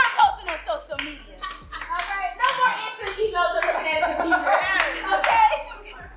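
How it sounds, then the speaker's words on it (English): Scattered audience clapping at a business seminar on social media management, with light claps mixed under steady talking and some cheering voices. "I need y'all to clap for yourselves."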